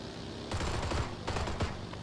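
Pistol gunfire in a video game sounds as a quick run of sharp shots in two short bursts, fairly faint over a constant background rumble.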